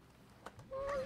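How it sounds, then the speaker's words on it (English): Chickens clucking in the video game Slime Rancher, a couple of short, nasal honking calls near the end over a faint background hum. "I swear I just heard chickens."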